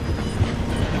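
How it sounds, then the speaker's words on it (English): Train in Red Dead Redemption 2 slowing as it passes through a station: a steady rumble of rail cars with a soft, rhythmic clickety-clack of wheels, loud and continuous throughout. "train is slowing down to go through the station"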